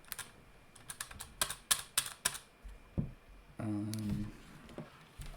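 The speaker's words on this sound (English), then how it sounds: "Normal keyboard." Keystrokes on a standard computer keyboard, a run of sharp separate clicks in an irregular rhythm, then a brief steady burst of tonal noise before a few final taps, fairly close and otherwise quiet.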